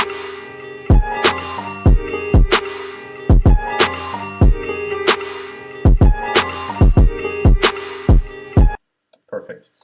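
Electronic drum pattern programmed in Ableton, with crisp snare hits and offset reverb snares repeating in a steady groove, loud and upfront, stopping abruptly near the end.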